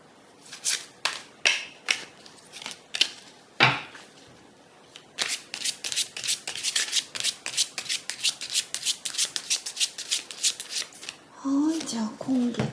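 Tarot cards being handled and shuffled at a close table, in a long run of rapid, rhythmic riffling slaps that fill most of the stretch, with a brief burst of speech near the end.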